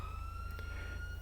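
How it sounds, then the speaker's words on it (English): A police car siren in a video game is switched on and sounds as a faint, steady electronic wail for a brief moment, with no talk over it. "So, we're going to toggle our siren."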